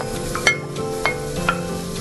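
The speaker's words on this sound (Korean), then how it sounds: "버터가 다 녹으면 양파를 먼저 볶아줍니다" Onions sautéing in melted butter in a pan, a steady sizzle under periodic scrapes and taps of a spatula being stirred through, close and moderately loud.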